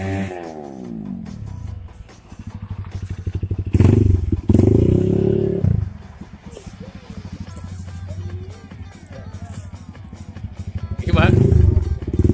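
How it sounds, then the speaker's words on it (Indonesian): Honda CRF150 trail motorcycle with an RS Motor aftermarket exhaust revving close by: a rough, crackling idle broken by sharp blips of throttle that swell loudly and drop back, with people talking nearby. "Ngeri dasar RS motor pada motor trail Honda CRF"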